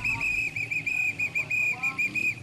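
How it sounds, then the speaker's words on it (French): A whistle sounds a rapid run of short, sharp, evenly spaced blasts to mark the return to school for the second term. The pulses are clear and fairly close. "Un coup de sifflet pour marquer le retour à l'école."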